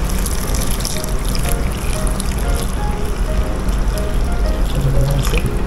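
Hot water pours steadily into a pot for chicken arroz caldo, a loud, continuous splashing rush with no pauses.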